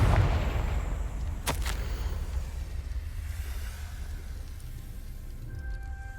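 In the Hogwarts Legacy video game, Confringo blasting spells go off as heavy rumbling explosions. One sharp crack cuts through early on, followed by a sustained low roar that slowly fades.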